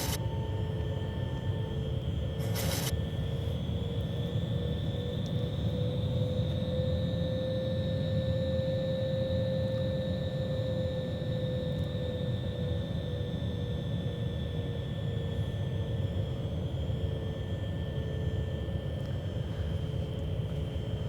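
Steady engine drone of a Boeing 737 on final approach in the X-Plane flight simulator, with a sustained turbine whine and broad rumble holding level throughout, a brief click near the start.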